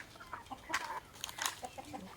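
Chickens cluck in short, scattered bursts around a rural home yard at feeding time, fairly faint with a few louder calls clustered in the middle.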